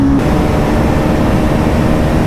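A Pulsar NS400Z motorcycle roars at speed in sixth gear during a performance run, a loud, close, unbroken engine drone mixed with wind rush, with no gear changes audible.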